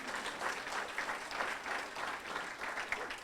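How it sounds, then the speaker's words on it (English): Audience applause at a Bradenton Kiwanis club gathering, a steady, moderately quiet patter of many hands clapping in a room without any talk. "So give him a round of applause."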